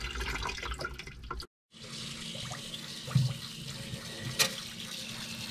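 Water flowing steadily from a campervan faucet during descaling, a continuous close splashing rush that breaks off briefly and then resumes, with no talking.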